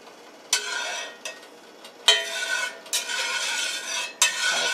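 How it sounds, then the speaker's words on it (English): Tofu sautés in a hot pan with a steady sizzle, and a utensil scrapes and stirs it in several sharp bursts against the metal, close up and without voices. "Then we add the tofu and saute until brown on both sides."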